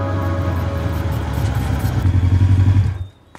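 A motorcycle engine runs loud and close with a steady, chugging rumble that swells briefly, then fades out abruptly as the bike rides away, leaving near silence.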